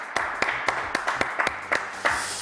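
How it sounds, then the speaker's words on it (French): Studio audience claps in a steady series of sharp, separate hand claps for actress Isabelle Joly, moderately close against a low background hum. "que je vous demande d'applaudir très très fort"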